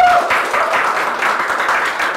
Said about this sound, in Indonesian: Mana tepuk tangannya dari teman-teman semua?